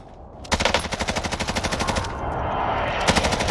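Rapid automatic gunfire in the Call of Duty Warzone video game, a loud burst of evenly spaced shots followed by a sustained roar and a few more shots near the end.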